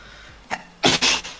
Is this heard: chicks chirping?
no